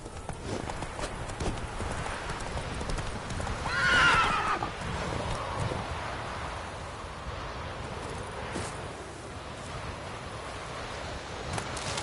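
A horse in the video game The Witcher 3: Wild Hunt gives a clear whinny over a steady background of hooves clip-clopping along with rustling ambience. The hoofbeats are moderately loud and continue throughout.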